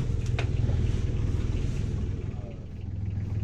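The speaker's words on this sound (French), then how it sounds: "Le moteur vient juste d'être donc mis en route." Inboard engine of a sailboat idling during a sea trial, a steady low throbbing rumble with regular pulses, close by and continuous, with faint wind or water noise.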